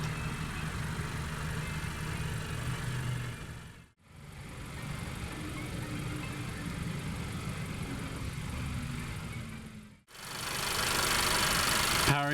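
A 2.4-liter four-cylinder engine in a 2017 Acura TLX runs at a steady idle with an even hum, and the sound cuts out briefly twice.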